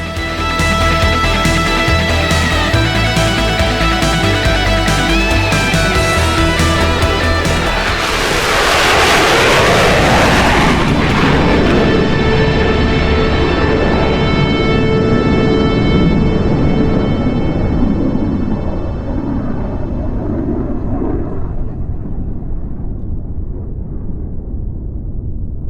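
An F-14B fighter jet makes a dedication pass at an airshow, its engines building to a loud roaring flyby that peaks and then fades away into the distance, with music playing underneath.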